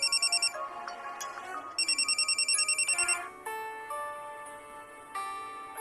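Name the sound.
phone ringtone ringing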